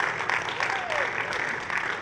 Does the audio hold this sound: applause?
yes